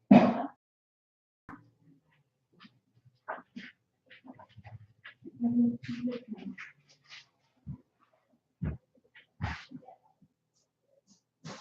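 Whimpers, snuffles and soft panting come from a dog indoors, arriving in scattered short bursts with quiet gaps between, fairly close and with no talking.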